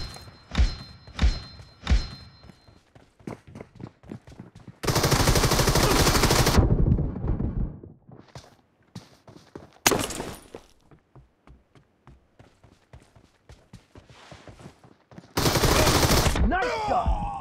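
Rapid bursts of automatic gunfire in the battle game BGMI, a team deathmatch, with dense loud volleys around the middle and end and sparser single shots and thuds between; a voice briefly speaks under the action.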